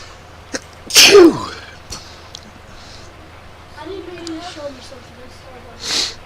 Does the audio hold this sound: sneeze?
yes